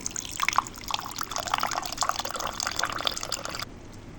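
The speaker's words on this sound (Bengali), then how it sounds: "তেঁতুলটা গুলিয়ে নেব।" Tamarind pulp is stirred and squeezed in water for fuchka, making close, continuous sloshing and dripping liquid sounds that stop abruptly at the end.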